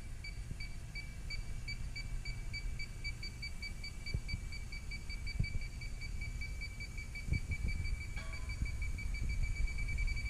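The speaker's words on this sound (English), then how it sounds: "the beep rate is faster and increases or decreases with the change in background concentration" A quiet electronic refrigerant leak detector (INFICON D-TEK Stratus) beeps in a fast, steady rhythm over low background hum, with a few faint knocks.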